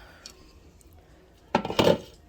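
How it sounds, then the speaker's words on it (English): Browned meat for lasagna clatters into a crock pot, two short bursts of clinking and scraping near the end after quiet moments, with no voices. "I almost forgot to show you me putting the meat in the crock pot."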